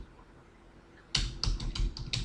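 Rapid keystrokes on a computer keyboard while Java code is typed, a quick cluster of about six or seven crisp, close clicks after a second of near silence.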